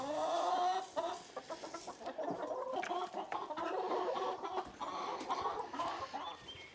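Chickens cluck and squawk in a farmyard at morning feeding time, a busy overlapping chorus of close birds with no talking.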